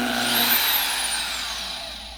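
A desktop bandsaw with an added switch hums close by with a high motor whine that slowly fades and winds down over a couple of seconds.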